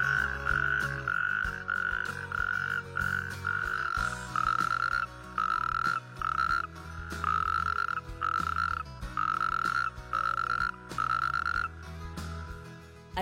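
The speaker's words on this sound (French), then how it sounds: "du côté des amphibiens, le crapaud calamite est l'espèce phare" Natterjack toads croak from a pond in Vaucluse, France, a loud rasping chorus of repeated pulsed calls in a steady rhythm that runs throughout, with no voices.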